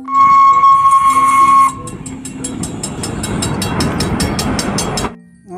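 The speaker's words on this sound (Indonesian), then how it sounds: "Kereta api Thomas." A toy Thomas train sound effect: a loud steam whistle blast, then a rapid rhythmic chuffing of the engine that runs for about three seconds before stopping abruptly.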